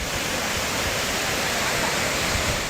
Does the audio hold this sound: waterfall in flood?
yes